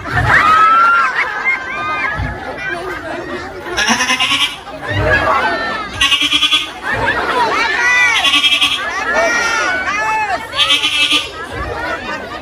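A voice imitates a goat's bleat in a mosque before a laughing crowd, several wavering bleats across the clip with audience chatter and laughter around them.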